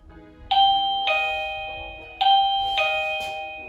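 A Tuya Smart Life video doorbell's indoor chime ringing twice, each a bright two-note ding-dong with ringing tones that decay slowly, clear and close with no talking.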